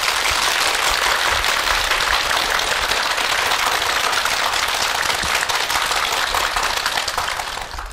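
A studio audience claps warmly to welcome a guest, a dense, loud, even wash of applause lasting several seconds before tapering off at the end.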